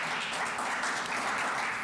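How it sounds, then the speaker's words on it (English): An audience at a business lunch event at the Wyndham Pittsburgh University Center gives a round of applause, a soft, even wash of clapping heard from a distance, with no talking. "Let's give them a round of applause."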